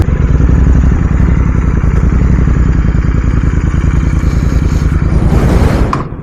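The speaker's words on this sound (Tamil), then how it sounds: "எக்ஸாஸ்ட் நோட் தாங்க வேறு லெவலில் இருக்குது" A Royal Enfield GT650 motorcycle fitted with a Red Rooster exhaust roars loud and close under hard acceleration, its deep, throbbing engine note held steady before a brief burst and drop-off at the end.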